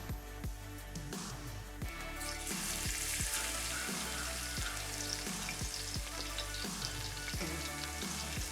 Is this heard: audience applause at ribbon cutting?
no